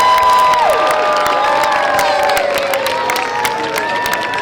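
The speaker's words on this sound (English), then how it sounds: "How about a big round of applause for Santa Claus?" A Christmas parade crowd cheers and applauds for Santa Claus outdoors, a loud steady wash of clapping with high shouts and whoops from children and adults throughout.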